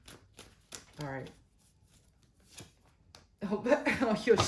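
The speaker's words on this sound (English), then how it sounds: "You just saw me shuffle the deck." A deck of tarot cards is shuffled in brief riffling bursts between quiet gaps, with a person speaking over part of it.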